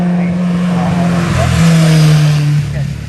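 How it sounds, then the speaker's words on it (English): Formula Ford race car, the Nike, accelerating up the Shelsley Walsh hill climb, its engine note rising loud and close and holding a steady high drone before easing off, with a voice talking over it. "this is Carol Nichols in the Formula Ford, the Nike, built by her father many years ago"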